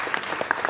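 Brief patter of a few hands clapping for a student at a San Marcos city council meeting, light and scattered, lasting under a second.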